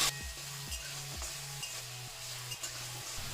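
Potatoes and onions fry in oil in a pan with a steady sizzle, while a spatula scrapes and stirs in a regular rhythm of about one stroke every half second, close and clear with no talking.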